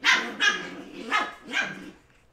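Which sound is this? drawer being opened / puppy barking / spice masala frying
puppy barking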